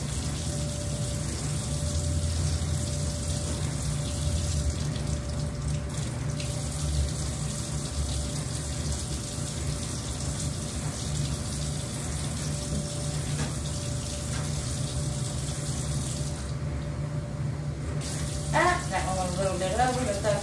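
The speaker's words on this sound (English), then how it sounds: "Rinse that bottle off, I don't get it all over the floor." A kitchen tap runs steadily while a tie-dye squeeze bottle is rinsed, a continuous close splashing hiss of water that holds throughout, with a brief clatter near the end.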